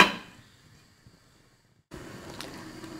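A lid set down on a pan of vegetable stew with coconut milk on a stove, heard as one sharp close clatter at the start, then near silence before steady kitchen background noise resumes.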